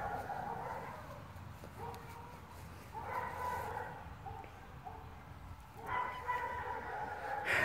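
Several bursts of barking from neighbourhood dogs out past a garden, fairly faint and distant, arriving in irregular clusters over a low constant rumble.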